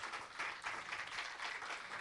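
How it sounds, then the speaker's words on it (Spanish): A church congregation gives brief, faint applause in praise, a soft wash of many hands clapping with a slightly rhythmic pulse. "Denle un aplauso al Señor"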